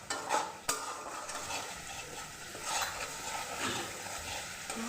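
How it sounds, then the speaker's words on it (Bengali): Masala spices fry in oil with sugar while being stirred, a soft steady sizzle with scraping spoon strokes and a couple of sharp clinks against the pan, close and alone. "ভাজা হয়ে গেছে, মশলা থেকে তেল আলাদা হয়ে গেছে।"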